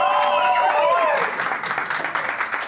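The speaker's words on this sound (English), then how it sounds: "keep that applause going for just a little bit longer" Loud audience applause fills a show hall, with a sustained crowd roar and scattered cheers; a voice-like whistling tone rises over the start before the clapping takes over.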